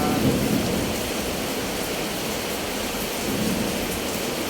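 Steady, dense rain pours down continuously with a low rumble beneath, filling the scene without pause and no voices.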